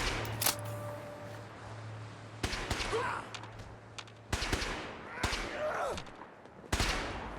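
Distant bursts of gunfire in Fallout 4, with a few sharp separated volleys spaced across a quiet background, fairly faint.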